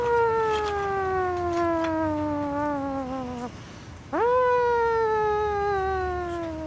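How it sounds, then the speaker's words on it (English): A loud, wailing siren glides slowly downward in pitch, breaks off briefly, then rises sharply and falls away again. "evacuation siren?"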